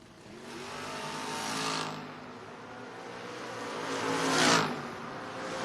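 Two Ford Mustangs drag racing at a door car event, engines roaring loud and rising in two strong waves as they launch and pass, with no talk.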